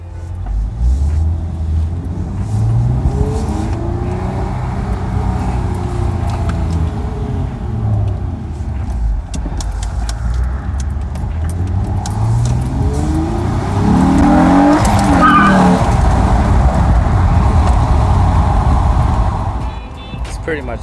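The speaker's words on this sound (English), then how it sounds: "Hopefully you can hear the exhaust." An Acura TL fitted with a Stage 3 exhaust mod drives steadily, its engine and exhaust drone running continuously at close range with a rise in intensity near the end, joined by talk.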